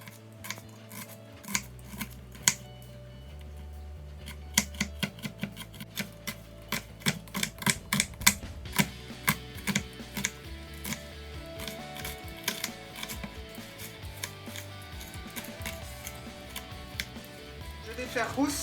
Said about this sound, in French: je vais commencer par éplucher mon oignon et mon échalote que je vais ciseler